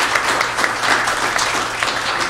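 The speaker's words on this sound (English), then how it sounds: "Give her a round of applause" An audience at a city council meeting gives a steady round of applause for a student being honored, a dense, continuous wash of many hands clapping close by.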